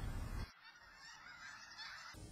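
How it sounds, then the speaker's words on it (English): Snow geese honk in a dense overlapping chorus over the Skagit River Valley in winter, a continuous loud flock of calls filling the air with no talking. "It's a time of year when snow geese visit the Skagit River Valley"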